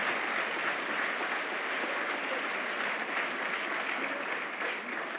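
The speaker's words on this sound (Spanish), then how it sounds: "Let's give a great round of applause." Church congregation applauding during a sermon, a continuous, full roar of many hands clapping together that stays loud and unbroken from start to finish.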